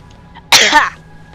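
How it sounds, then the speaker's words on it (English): A single sharp sneeze bursts out close up amid quiet background hum, brief and loud. "Ah, sneeze."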